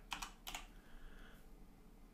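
Computer keyboard typing on a PC, two quick bursts of keystrokes close up, then quiet room tone.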